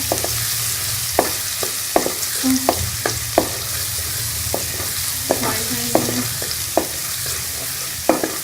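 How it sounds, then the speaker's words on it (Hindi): Steady sizzling of garlic paste frying in a pan, with regular light clinks of a spoon stirring throughout. "और इसको हम थोड़ा सा फ्राई कर लेंगे 5 सेकंड के लिए।"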